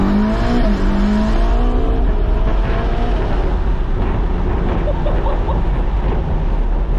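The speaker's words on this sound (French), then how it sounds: "Putain elle décolle la voiture, c'est impressionnant" A tuned Ferrari SF90 with about 1200 hp roars loudly and continuously, revving hard as it accelerates, with a rising whine early on and a constant powerful rumble.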